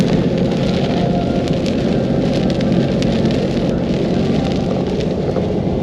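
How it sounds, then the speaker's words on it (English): Steady, heavy rain pours down, with a constant dense hiss and patter on surfaces throughout. "It's now raining, check this out."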